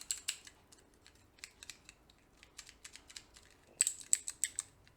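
A keyboard-key fidget toy clicks in quiet, uneven bursts of crisp taps, some single and some in quick runs, with a louder cluster of clicks near the end.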